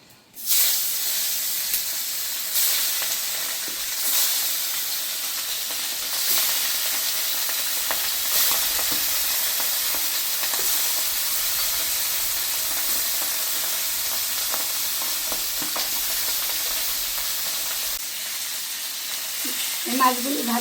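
Small river tapsi fish fry in hot oil in a pan, giving a steady, bright sizzle and hiss that runs continuously, with occasional louder spits and faint utensil sounds near the end.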